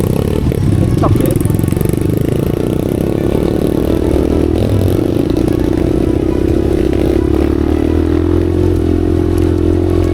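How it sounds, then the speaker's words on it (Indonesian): A motorcycle with a loud exhaust rides along a rural village road in Bondowoso, its engine droning steadily and close for the whole stretch, with a low rumbling roar that shifts slightly in pitch. "raungan suara knalpot yang cukup keras beresiko membuat sapi tidak nyaman"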